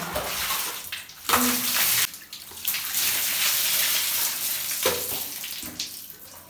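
Water pours steadily from a tap to fill a bath, a continuous broadband rush that stays fairly loud throughout with a few brief bumps and knocks, and no voices.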